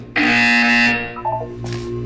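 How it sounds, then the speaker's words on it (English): A harsh, loud electronic buzzer sounds in the Portal 2 video game, one steady tone under a second long, then a fainter sustained hum and short tonal blips. "You will hear a buzzer."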